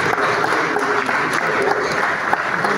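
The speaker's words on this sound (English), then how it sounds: "please give a round of applause for" Continuous audience applause in a hall at a real estate outlook event, a steady dense clapping texture with faint crowd murmur beneath.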